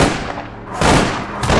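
Sniper rifle fire in the online game APB Reloaded: loud, close blasts with sharp onsets and a rumbling tail, one near the middle and another just before the end, with no talking over them.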